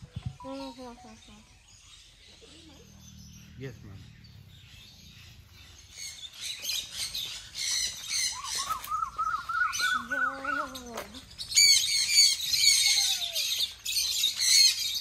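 Birds in an aviary at a pet sanctuary, a mix of squawks, chirps and squealing calls, sporadic at first and then denser and louder toward the end, with people talking intermittently nearby.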